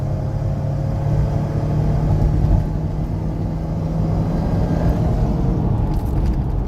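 A 2002 Toyota 4Runner Sport SR5 4x4 with 197k miles takes a corner at around 70 mph, its engine and road rumble holding a steady, loud drone throughout with no break.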